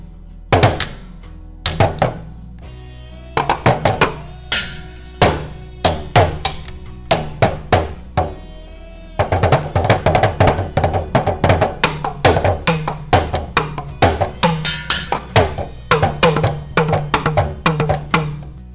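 A desktop drum kit played in a loose jam, with a sharp hit count-in, then steady rhythmic thunks, knocks and taps at close range that become denser and louder halfway through, with no talking over the beats.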